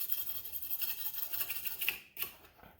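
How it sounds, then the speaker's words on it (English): A wire brush scrubs soft, annealed copper on a forged and brazed metal flower, with rapid, close scratchy strokes in quick rhythm, pausing briefly before one more scrub. "you take a wire brush"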